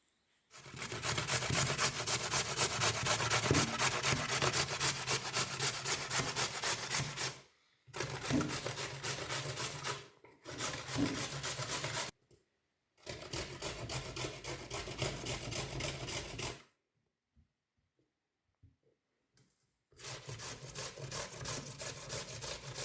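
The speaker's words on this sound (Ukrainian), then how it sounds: "для того беру терку і на великій терці буду натирати картоплю" Potatoes rubbed against the large side of a kitchen grater, a steady rasping scrape in long continuous stretches broken by short pauses, close and without talk.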